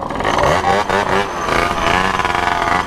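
A Mobylette moped fitted with a Bidalot kit revs hard nearby on a country ride, its loud two-stroke engine rising and wavering in pitch throughout.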